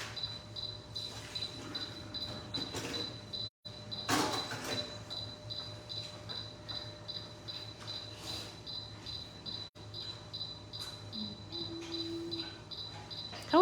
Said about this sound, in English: How is there not an off switch for that cricket?